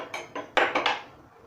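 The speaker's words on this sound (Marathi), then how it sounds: "मी या गॅसवरती एक तडका पॅन ठेवलेला आहे" A metal tadka pan set down on a gas stove, giving a few sharp, close clanks in quick succession that ring briefly and fade into quiet.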